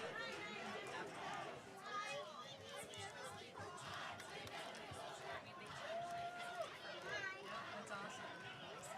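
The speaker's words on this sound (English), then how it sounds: "Bears got the crowd into it" Spectators at a high school soccer match, Birmingham Seaholm at Berkley, raise a lively, continuous crowd roar with shouts and cheers, heard at a distance under a commentator's voice.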